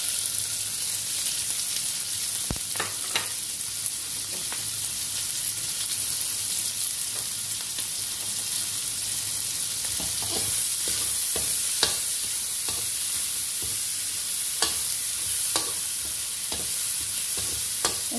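Onion sautéing with pork in a pan for pakbet makes a continuous close sizzle, broken by scattered scraping and stirring clicks.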